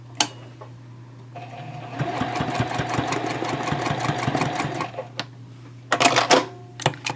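Sewing machine basting a D-ring tab onto a zipper pouch, a steady close rattling run of rapid needle strokes lasting a few seconds, bracketed by sharp clicks and handling noises.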